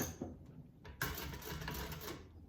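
A sewing machine stitching a leather wallet, with a short run of stitching, a brief pause and then a longer, steady mechanical stitching run close by at low volume.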